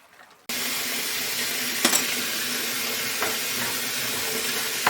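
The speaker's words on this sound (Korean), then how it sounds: "자, 이제 배추를 씻어 보도록 하겠습니다. 흐르는 물에서" Tap water runs steadily into a sink as napa cabbage, salted for kimchi, is washed under the flow, a loud even rush starting abruptly with a few brief splashes as the leaves are handled.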